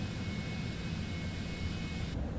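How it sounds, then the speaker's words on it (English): A simulated Cessna Citation X rolls along grooved runway pavement in Microsoft Flight Simulator, a dense, steady low rumble with jet engine hiss that runs evenly throughout, then cuts off sharply at the end. "you can hear the grooves on the runway with this aeroplane"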